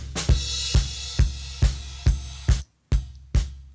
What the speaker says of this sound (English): So this bass drum was before like this.